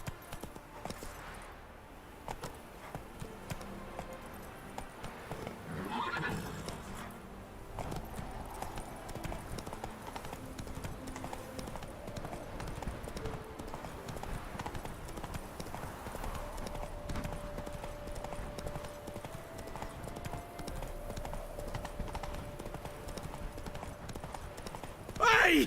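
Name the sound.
horse galloping, hooves clip-clopping, in The Witcher 3 video game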